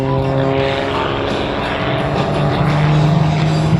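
Steady loud drone of a 400-horsepower Wolf Pitts Pro aerobatic biplane engine at an Australian airshow, a continuous propeller roar with a slight rise in pitch toward the end.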